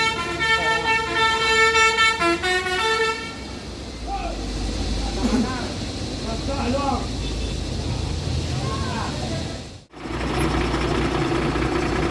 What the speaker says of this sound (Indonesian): sepertinya bus ini baru datang dari Jabodetabek yang membawa pemudik ya